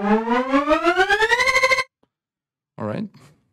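A trailer riser synthesized in Vital: a bright, buzzy tone climbs steadily in pitch for almost two seconds and cuts off. After a pause, a short vocal-like fragment follows.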